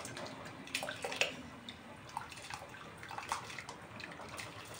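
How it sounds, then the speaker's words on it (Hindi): Soaked rice poured into a pot of water for Hyderabadi chicken dum biryani makes soft, irregular splashes and watery sloshes at moderate, close level, with no talk. "अब इसमें हम भींगे हुए चावल डाल देंगे"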